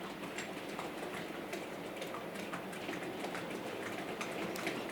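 A Warship class model locomotive, Royal Oak, runs slowly uphill hauling a rake of wagons, giving a steady, continuous rumbling hiss with faint clicks throughout, no voices.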